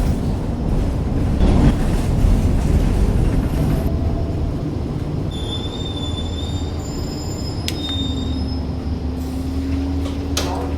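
A train runs along the rails with a steady rumbling roar, wheels squealing in high thin tones partway through, heard loudly from inside the car with no talking.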